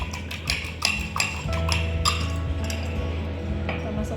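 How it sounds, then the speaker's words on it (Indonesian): Fish sempol batter, thinned with a little added water, is whisked in a bowl: quick, repeated clinks and scrapes of the whisk against the bowl, close and fairly steady, with a few sharper taps. "Kita kocok lagi."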